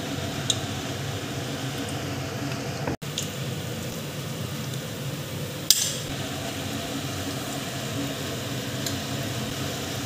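Battered chicken fingers fry in hot oil over a medium flame, a dense, even sizzle that holds steady throughout, broken by one sharp click and a brief louder crackle.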